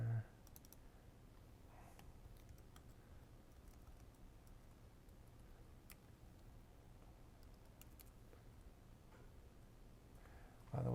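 Faint, steady clicking of a computer keyboard being typed on during a coding session, soft irregular keystrokes under a low background hum.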